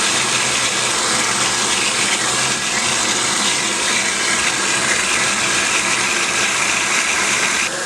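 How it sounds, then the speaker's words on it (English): Water gushes loudly and steadily from a valve on a 55-gallon tank into a container, a continuous close rushing flow with no pauses. "The water starts going from there"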